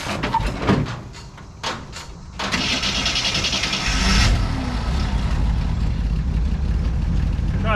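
Jeep CJ7 engine cranking over several short bursts, then catching and roaring up to a loud, steady run that settles into a rough, close idle.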